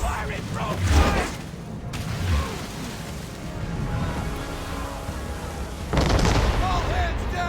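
Ship cannons fire a broadside in Assassin's Creed III, heavy booms and blasts rolling out in bursts over constant sea and battle noise, with shouted voices around the firing.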